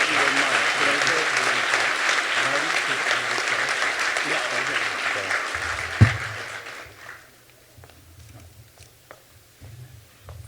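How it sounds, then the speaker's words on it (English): Commencement audience at Kirtland Community College breaks into loud, sustained applause that fades out after about seven seconds, leaving a quieter room with a few stray claps and a low hum. "Once again, folks, please join me in a round of applause"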